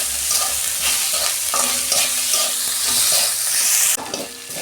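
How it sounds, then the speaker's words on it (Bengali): Salted onions fry in a pan with a loud, steady sizzle, broken by scraping stir strokes roughly every half second and a brief surge of hiss near the end. "পেঁয়াজ আমি ভালো করে ভেজে নেব।"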